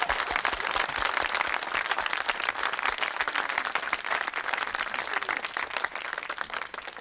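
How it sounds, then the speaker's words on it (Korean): A studio audience at a KBS music broadcast applauding, a dense, sustained wash of clapping from many hands that stays loud and even throughout. "박수."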